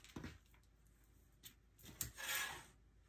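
Fabric is cut into strips from a fat eighth for quilting: a few short, soft scraping passes, then a longer hissing cut near the end, quiet and close with no voices.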